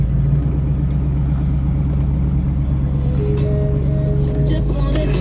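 A restored 1967 Chevrolet Camaro convertible's engine runs at a steady, loud, close idle, a deep continuous rumble with no breaks.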